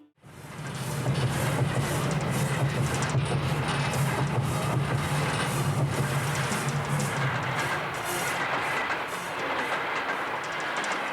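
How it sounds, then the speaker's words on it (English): A train rumbles along steadily, a dense roar with rhythmic clattering of wheels on track, loud and close throughout. "coupled with the leitmotif of running trains."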